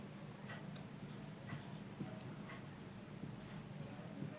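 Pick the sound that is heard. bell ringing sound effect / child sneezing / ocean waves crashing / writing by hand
writing by hand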